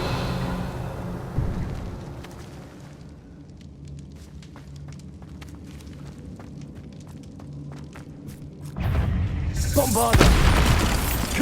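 Confringo fire spells from the Hogwarts Legacy game bursting in deep rumbling booms, with a low ambient drone and scattered ticks before a louder, dense blast swells near the end.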